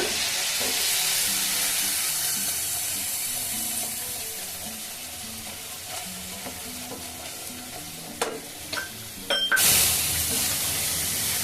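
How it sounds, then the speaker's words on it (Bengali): Spiced masala for a prawn curry frying in a pan, a steady close sizzle with stirring scrapes, fading somewhat before sharp utensil knocks and a sudden louder hiss as liquid is added near the end. "বাটি ধোয়া জল একটু দিয়ে আবার একটু কষিয়ে নেব"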